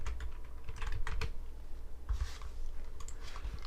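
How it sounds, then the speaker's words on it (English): Clicks of a computer keyboard as a name is typed, near and crisp, coming in short bursts with brief pauses between them, and no voice during the typing. "let's go ahead and type in Paradise Lagoon again"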